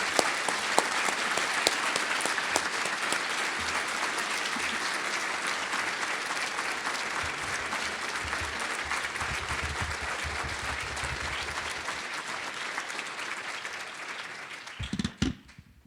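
An audience at the 2016 National Student Symposium applauds a keynote speaker with a sustained, dense wash of clapping that holds steady for the full length and thins out with a few louder thumps at the end.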